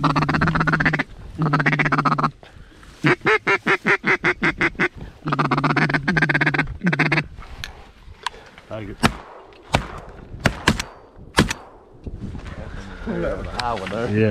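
Rapid, rhythmic duck quacking comes in loud bursts, likely a duck call, at a duck hunt in Arkansas, followed by sharp gunshots and a voice speaking.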